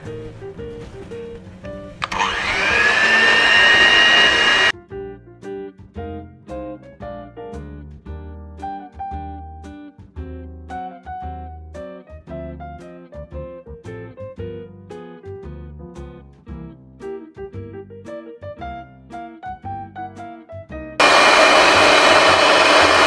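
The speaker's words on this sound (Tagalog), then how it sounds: "slowly add the oil little by little while continually whisking. I'm going to use this electric mixer." An electric mixer whisks oil into homemade mayonnaise, giving a steady, loud whir in two bursts, one early and one at the end, with music playing in between.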